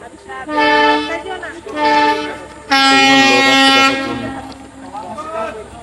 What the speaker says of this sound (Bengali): ভারত থেকে ট্রেন আসছে দেখেন এখনই ট্রেন আসতেছে